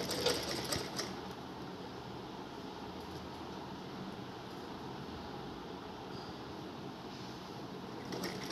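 Sewing machine stitching a round table cloth, a steady fast whirring chatter running continuously at moderate volume, slightly busier at the start and ending with a small bump.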